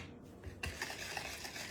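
A spoon scrapes and clinks against a bowl while a cup of whole milk is stirred into the mix for apple cider donuts, short soft kitchen sounds heard close and alone.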